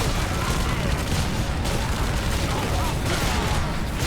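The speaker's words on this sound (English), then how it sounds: "This is a heavy bolter." A heavy bolter fires in Warhammer 40k Space Marine, a dense, loud, continuous roar of rapid heavy gunfire with booming impacts throughout.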